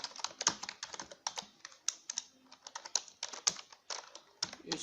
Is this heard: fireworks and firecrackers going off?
no